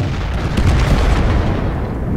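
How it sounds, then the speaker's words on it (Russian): Dense rumbling booms of artillery shells exploding in the tank battle game World of Tanks, a loud, continuous low roar with several overlapping blasts and no clear pauses between them. "Ох, какие взрывы"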